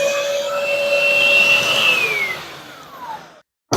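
Canister vacuum cleaner running on carpet: a loud, steady motor whine with sustained high tones that slowly drop in pitch before cutting off abruptly near the end.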